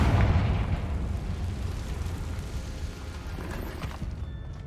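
A Confringo fire spell explodes in the Hogwarts Legacy video game, a loud, broad booming blast that rolls on as a sustained rumble for several seconds.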